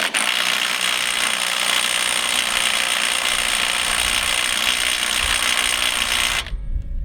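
A Ryobi P262 One+ HP 18-volt 1/2 inch cordless impact wrench runs steadily and loud for about six and a half seconds, a continuous hammering rattle that cuts off abruptly near the end.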